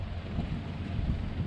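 A sailboat's engine runs steadily at anchor in Palmeira, Cape Verde, a continuous low rumble mixed with wind buffeting the microphone, with no voices.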